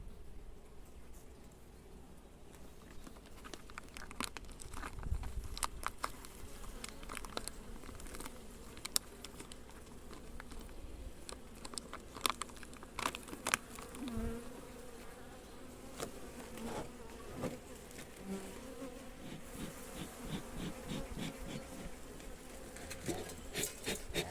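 Steady, dense buzzing of many honeybees at close range during an early-spring hive inspection, with occasional crackles and handling sounds throughout.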